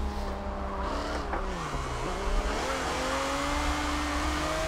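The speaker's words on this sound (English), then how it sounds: "Drift that out to the apron." Race car in Forza 7 drifting around Suzuka, the engine droning with shifting pitch as tires squeal through the slide, loud and continuous with a brief dip in revs midway.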